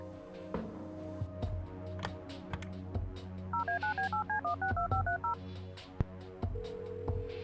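A telephone number dialed in the video game Kathy Rain, a quick run of about a dozen touch-tone beeps in steady rhythm over a droning background hum, clear and close, followed by a sustained tone.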